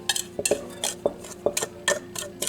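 Bread dough for a cinnamon-filled loaf being mixed in a bowl with softened butter, giving a steady run of close clinks and scrapes at a regular beat of roughly two per second.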